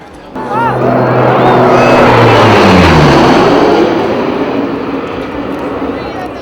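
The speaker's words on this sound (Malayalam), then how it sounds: "കാതടപ്പിക്കുന്ന ഒരു മുഴക്കത്തോടെ ഒരു പോർ വിമാനം അതിവേഗത്തിൽ ചുറ്റിയടിച്ച് കടന്നുപോയി" A four-propeller fighter plane at an air show sweeps past with a loud, rising then fading roar, while a crowd murmurs underneath.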